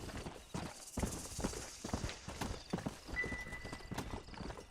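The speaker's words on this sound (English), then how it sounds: "What is this horse doing?" Horse hooves galloping in a fast, steady clip-clop rhythm in the video game Red Dead Redemption, fairly close, with a brief whinny mixed in; no talking.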